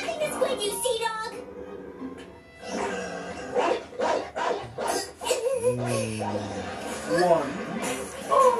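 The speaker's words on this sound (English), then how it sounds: "Uh-oh, the dog." Cartoon dog barking in a Squid Girl anime episode, a few yips and barks mixed with excited character voices and laughter.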